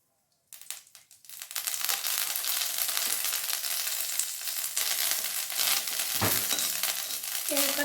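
Curry leaves dropped into hot oil burst into a loud, steady sizzle and crackle that continues evenly after a brief quiet start.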